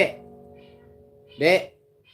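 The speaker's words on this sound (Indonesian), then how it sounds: "Buang kucing tuh lah dengan si Pop lah" A single short cat meow sounds nearby after a brief sustained tone, otherwise quiet.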